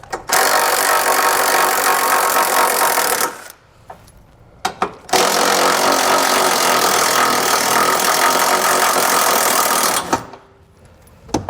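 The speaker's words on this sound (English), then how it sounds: "I'm going to switch over to my impact so I can get them out a little bit quicker" An impact wrench hammering out trailer hitch bolts under a 2020 Dodge Grand Caravan, running in two long, loud, steady bursts of rapid rattling separated by a pause with a few short blips.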